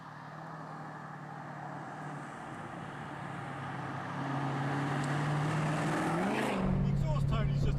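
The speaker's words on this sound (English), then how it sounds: "The exhaust tone is just absolutely fabulous on this car. Now this is set on the loud setting." A Jaguar F-Type's exhaust, set to its loud setting, rumbles at a deep idle, then swells louder as the tuned 670bhp engine is revved, with a throaty burble toward the end.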